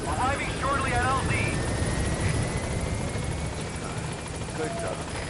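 Pequod support helicopter from the game Metal Gear Solid V arriving at a landing zone, a steady rotor drone filling the whole stretch under a radio voice.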